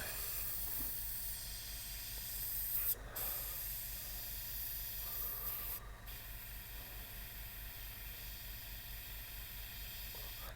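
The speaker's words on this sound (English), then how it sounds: "The compressor is running as we speak. It's very, very quiet." A very quiet airbrush compressor runs steadily under a soft hiss, with a low even hum and two brief sharp bursts of air spray.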